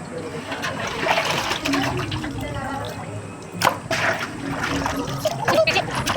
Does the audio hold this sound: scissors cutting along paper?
no